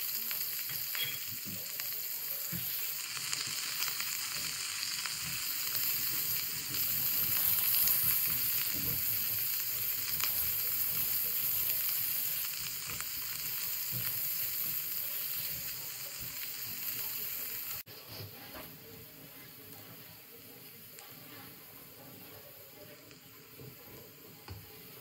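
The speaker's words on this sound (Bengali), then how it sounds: "তেলটা গরম হয়ে গেছে, আমি এখানে পেঁয়াজ আর কাঁচা লঙ্কা দিয়ে দিলাম।" Onion and green chilli dropped into hot oil, a sustained crackling sizzle that holds strong for most of its length before settling to a quieter fry with occasional faint stirring.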